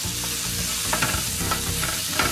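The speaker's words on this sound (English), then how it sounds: "Onions into the tray, please." Onions frying in a tray hiss loudly and continuously, with spoon or spatula stirring strokes scraping through the sizzle at close range.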